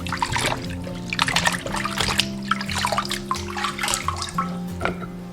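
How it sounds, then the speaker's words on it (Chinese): Boiled pig trotters rinsed under cold running water, a steady trickle and splashing with brief swishes as the pieces are handled, close by, over a low steady hum. "捞起来立即过凉水。 把猪蹄清洗干净。"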